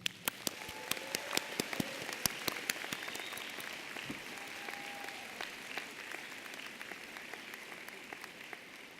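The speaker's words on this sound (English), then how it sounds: "Graduates, please join me in applauding these special people, the ones who have helped you get to this point in your lives" A large audience at a spring college of nursing commencement applauds graduates' families and supporters, a steady wash of many hands clapping with a few sharp, nearer claps standing out, then gradually thinning toward the end.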